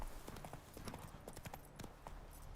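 Roach, the horse in The Witcher 3: Wild Hunt, clip-clops along with a quick steady rhythm of hooves, fairly close but faint over a soft game background.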